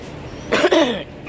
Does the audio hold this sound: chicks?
no